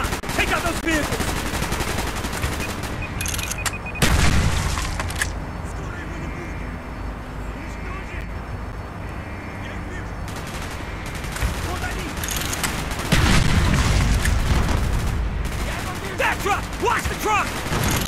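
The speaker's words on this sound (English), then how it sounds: "Gunfire's drawing attention." Sustained gunfire bursts and machine-gun fusillades from a Call of Duty Black Ops battle, loud and dense for the whole stretch with heavier blasts near the start and toward the end, over game voices and a faint aircraft drone.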